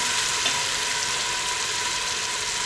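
Tomato paste sizzling in a pan while being stirred, a steady close hiss with faint scraping, no talk.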